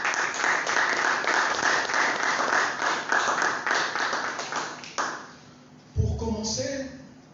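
A church congregation applauds with dense, loud clapping for about five seconds before it fades out. A voice and a ringing tone follow.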